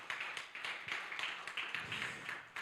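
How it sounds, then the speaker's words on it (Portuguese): A church congregation claps in a steady rhythm, with faint, evenly spaced beats repeating about three times a second and sounding somewhat distant. "Uma salva de palmas a Cristo Jesus"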